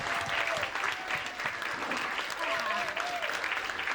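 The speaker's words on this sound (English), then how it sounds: "Can we give a standing ovation to that lady right there, please? Round of applause" An audience gives a standing ovation at a centennial brotherhood event, with loud, dense, continuous clapping filling the room and voices and cheers mixed through it.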